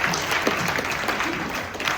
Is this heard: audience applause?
yes